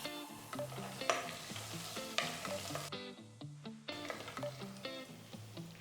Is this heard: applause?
no